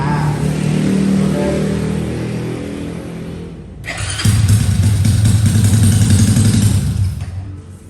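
A motorcycle engine being prepared for racing, fitted with a new 53 mm piston, starts up loud and close, cranks and runs briefly, then catches and revs steadily at a high, buzzing pitch.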